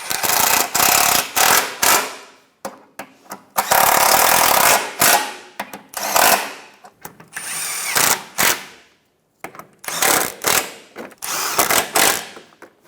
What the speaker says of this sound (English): Tighten the 14mm bolts and nuts.